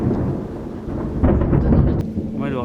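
Thunder rumbles low and loud through a steady rain during a storm, with a heavier swell in the middle of the clip and a brief higher sound near the end.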